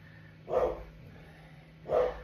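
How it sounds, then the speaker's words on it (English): Two separate muffled barks from a dog somewhere off in another room, spaced over a second apart, over quiet background hum. "Sorry about my dog Money."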